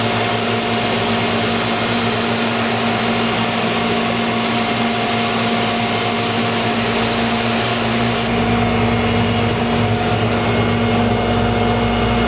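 An IMPACTS S270E-75R shot blaster, a compact 10.5-inch floor blasting machine, running with a loud constant roaring whine and steady hum close by, shifting in tone partway through.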